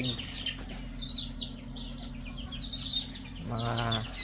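Lively champion chickens bred on a farm, clucking and chirping in short calls over a steady humming background, with a louder burst of calls near the end.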